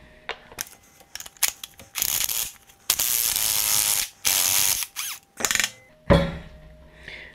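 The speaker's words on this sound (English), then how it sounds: "you'll need a 3/4 inch socket or wrench to take this nut off the end" A 3/4 inch socket wrench ratchets a nut off the end of a Fox 2.0 air shock during a revalve, giving several loud bursts of clicking with short pauses and metallic clinks between them.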